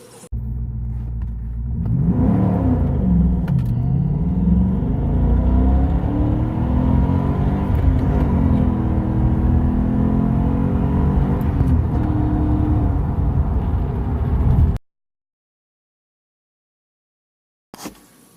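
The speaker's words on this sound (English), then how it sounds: "the car is running and driving with the 5-speed now" Porsche 928 with a swapped-in 5-speed manual driving, its engine rumbling loud and close as it accelerates through the gears for about fifteen seconds, then cutting to silence.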